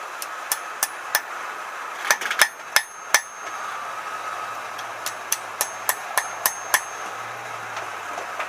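Hammer blows on steel while forging a bottle opener, sharp metallic strikes coming singly and in quick clusters with short pauses between, bright and close over a faint background hum.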